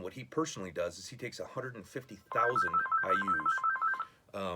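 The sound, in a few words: phone ringing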